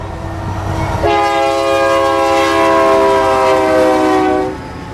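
A freight train rolls past close by in Central Florida, its loud multi-tone horn blaring for several seconds over the rumble and clatter of the cars.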